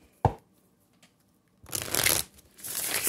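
Two bursts of tarot card shuffling, a brief riffle then a longer, louder one, close by with a short pause between, following a sharp tap at the start.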